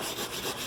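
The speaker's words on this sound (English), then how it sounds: "Just sanding it down like this" Brief close-up rasp of sandpaper rubbing over painted wooden furniture legs, a few quick back-and-forth strokes at low volume.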